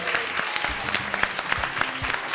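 An audience claps steadily for the winning youth team at a live show, a dense, even burst of applause that stays at one level throughout with no voices over it.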